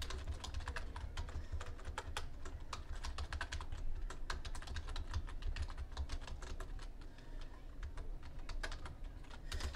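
Quiet, steady typing on a computer keyboard as entries are keyed in, with a continuous patter of small key clicks over a low background hum.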